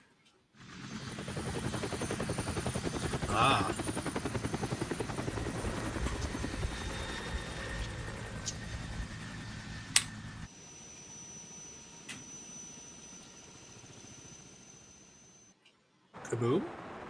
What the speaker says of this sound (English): No, this is our helicopter.